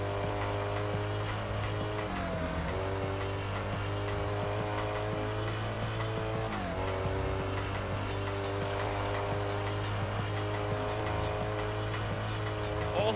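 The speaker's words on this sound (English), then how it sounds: "There is such a throaty roar in the Koenigsegg's exhaust." Koenigsegg supercar in the racing game Test Drive Unlimited, its engine droning steadily and loudly throughout with shifting harmonic tones as it accelerates, with faint tire noise in places.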